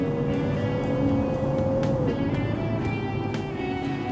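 A 1995 Superior Luxury car engine in BeamNG roars steadily at full throttle, a sustained, even drone throughout.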